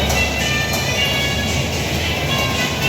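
A ride train rumbles past in a continuous, dense roar of rolling wheels and machinery, close and loud throughout.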